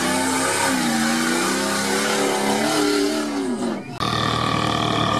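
A powerful V8 engine in a GAZ-69 off-road vehicle revs loudly and steadily, pitch rising and falling, briefly dropping off before roaring back.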